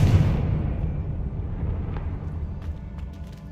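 A Confringo blasting spell explodes in Hogwarts Legacy with a loud, booming burst up front that rumbles and decays over several seconds, with a few faint crackles trailing off.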